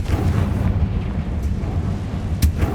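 Confringo fire spell explosion in Hogwarts Legacy, a deep, sustained rumbling blast with scattered pops and a sharp burst near the end, loud and near with no talking.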